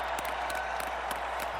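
A crowd at Super Bowl 52 in 2018 cheers and applauds in a steady, dense roar with scattered claps, continuous and fairly loud throughout.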